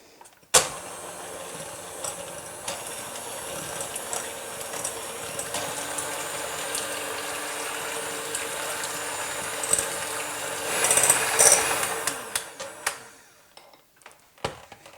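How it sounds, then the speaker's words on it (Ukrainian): An electric mixer whirs steadily through marble cake batter made with vanilla sugar and a pinch of salt, its motor running for about twelve seconds with a brief louder surge before stopping. "І тепер за допомогою міксера все добре змішую"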